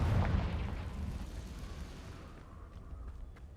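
A Confringo explosive spell fired in Hogwarts Legacy lands as a loud low boom at the start, then fades into a rumbling explosive tail that drops in level.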